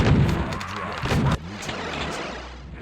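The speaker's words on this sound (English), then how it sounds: "A lot of rapid fire frags happening on the blue side of the map there." Rapid frag grenade explosions in an online video game match thud and boom in quick succession, loud and dense, several blasts overlapping with no voices on top.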